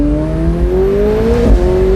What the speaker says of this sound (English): The shifts are so aggressive in sport.